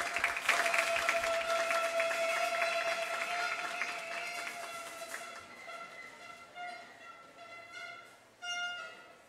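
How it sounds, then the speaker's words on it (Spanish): An audience at a regional final applauds, a dense round of clapping that fades after about five seconds, leaving a faint steady tone with sparse claps. "Fuerte el aplauso."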